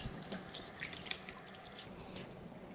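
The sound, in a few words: tap water washing raw chicken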